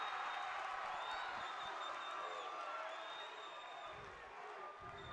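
A crowd at the 2017 CUNY men's community college basketball championship game roars and cheers steadily with whoops and some clapping, a loud continuous wall of noise throughout.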